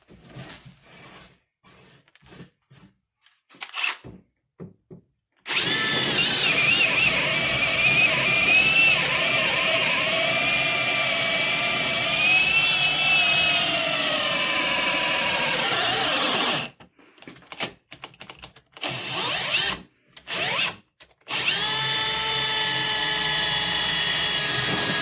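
A Bosch 12V brushless drill bores into pressure-treated wood in one long, loud, whining run, preceded and followed by short bursts of drilling.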